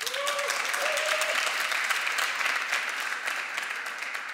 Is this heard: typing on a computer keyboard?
no